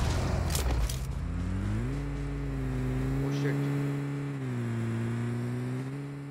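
A vehicle driving in the video game PUBG, a steady droning engine hum that shifts pitch as it speeds up and eases off, loud and close throughout.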